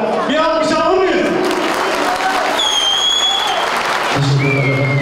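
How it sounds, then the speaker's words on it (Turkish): Audience applause at a public gathering in Karaköy, Buldan, Denizli, a steady wash of clapping from a crowd with some music and voices mixed in. "Bir alkış alır mıyız?"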